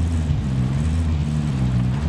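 A low, steady engine drone from a truck in the Call of Duty video game, humming at an even pitch throughout.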